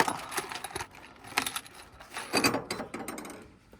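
Hand ratchet snugging a bolt on a catch can bracket in a Valiant Charger engine bay: short bursts of close metallic clicking come in a few uneven runs, with light clinks of parts between them and no talking.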